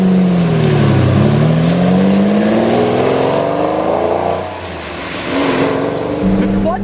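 A Lamborghini Countach engine roaring loudly from inside the car as it accelerates, its pitch climbing and falling through gear changes, with someone talking over it.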